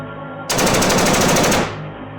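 A rapid burst of automatic gunfire cuts in sharply and hammers loud and close for about a second before dying away, a sound effect for a close-range assassination shooting at a home gate in Nairobi.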